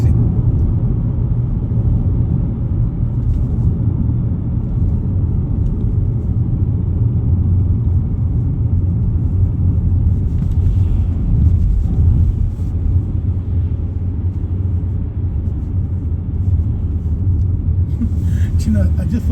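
A bus passes nearby on a road approaching a roundabout in Leeds, a steady low engine rumble heard from inside a car with continuous road noise throughout.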